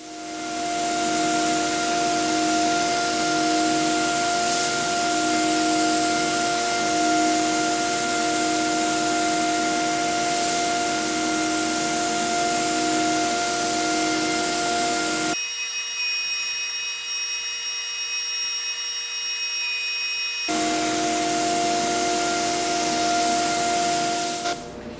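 A steady, loud hiss from a spray gun spraying a thick finish coat on a wooden table, with a faint whine underneath, cutting out for a few seconds before resuming just as strongly.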